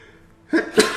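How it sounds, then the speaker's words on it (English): A single adult sneeze lands sharply after a brief quiet breath, close and loud, in two quick bursts during a meditation gathering. "I'm going to sneeze here."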